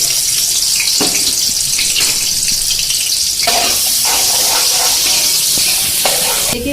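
Onions frying in hot oil in a cooking pot, a steady loud sizzle with stirring and scraping throughout, no talking.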